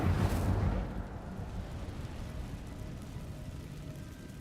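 Incendio fire spell cast in Hogwarts Legacy: a loud whooshing burst of flame at the start that falls away into a steady low rumble, with no talk over it.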